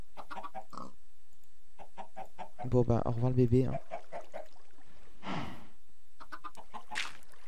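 Chickens in a French adventure video game cluck in a short loud burst midway, surrounded by a man chatting casually before and after.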